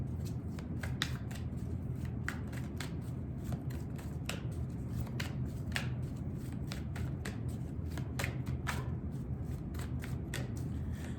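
Angel Oracle cards being shuffled by hand, a steady run of crisp riffling clicks and flutters over a low background hum, close and moderately quiet with no talking.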